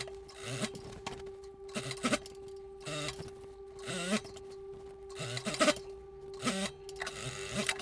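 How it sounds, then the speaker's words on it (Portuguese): Sewing machine stitching a long seam along the fronts of a denim dress, in repeated short bursts of rapid needle chatter separated by brief pauses, close and clear over a faint steady hum. "E aí eu passo uma costura em toda a extensão nas duas frentes"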